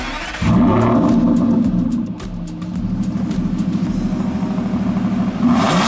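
A car engine turns over and catches, settling into a steady, loud idle with a brief rev at the end.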